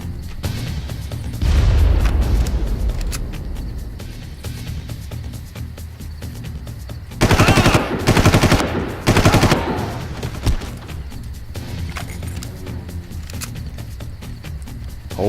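Grenade blasts and rapid gunfire in the shooter game Far Cry: loud bursts of automatic fire and booming explosions, with heavy clustered volleys around the middle, over a steady rumbling game background.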